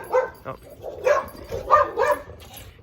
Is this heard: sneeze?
no